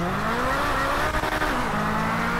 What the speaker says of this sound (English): Oh, that Mclaren is making me look good today